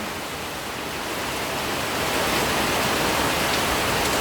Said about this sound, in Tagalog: Kapag malakas ang ulan,